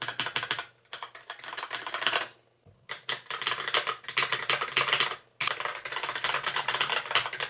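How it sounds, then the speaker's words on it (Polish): Rapid clacking keystrokes on a Genesis mechanical keyboard with brown switches come in dense, close bursts, broken by a couple of brief pauses, with no talking. "no brzmi jak taka typowa klawiatura mechaniczna"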